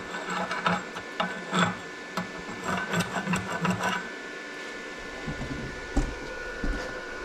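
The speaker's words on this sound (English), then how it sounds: "It's always a good idea to let your weld cool down before you chip off your flux" Slag being chipped off a cooled flux-coated stick weld with a chipping hammer, a rapid run of close, sharp metallic taps for about four seconds, then a few scattered knocks over quieter shop background.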